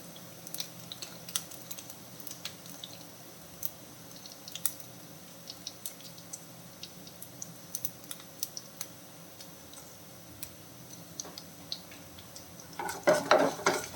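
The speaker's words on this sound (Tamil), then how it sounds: "பூண்டு வந்து நல்லா வதங்கிட்டோம் நல்லா வதங்கிடுச்சு" Garlic, curry leaves and dried red chillies sauté in a pan, with a soft, low sizzle broken by scattered light clicks and scrapes of a spatula, growing busier and louder at the end.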